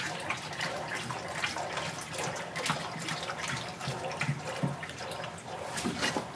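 Water pours into a saltwater aquarium tank during a water change, a steady splashing, gurgling stream that stays fairly close and even for the whole stretch.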